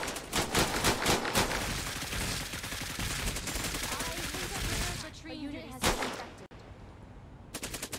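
Gunfire in the video game Cepheus Protocol: dense, rapid bursts of automatic weapons fire crackle for about five seconds, then thin out to a few isolated shots.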